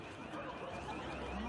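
Car alarms sounding through a Turkish street in Elazığ right after a magnitude 6.8 earthquake, a dense, steady wash of blaring alarm tones with a continuous low rumble and no clear gaps.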